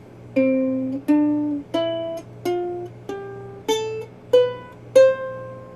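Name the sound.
ukulele playing a scale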